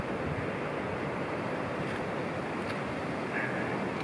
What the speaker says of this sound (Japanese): 波もちょっと荒いみたいですね。